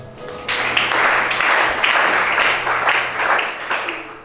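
Congregation at a church worship service breaks into sustained applause, a dense continuous wash of many hands clapping, loud and close, with faint background tones underneath.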